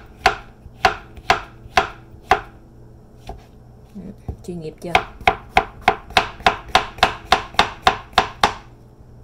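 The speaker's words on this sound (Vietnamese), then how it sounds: "Đây mình xắt từng miếng mỏng ra thế này" A knife slices food into thin pieces on a cutting board in a home kitchen, with a steady run of crisp, regular chops, a brief pause, then a faster even series; a voice speaks briefly in between.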